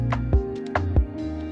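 Quick 16th-note Foley percussion ticks form a little fill over warm sustained low chords and a thudding low pulse, a few bright clicks in fast rhythm closing a bar.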